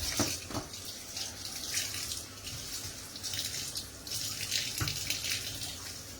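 Tap water runs steadily over fresh thyme and scallions being washed in a kitchen sink, a continuous near splashing with a few louder bursts and no talk.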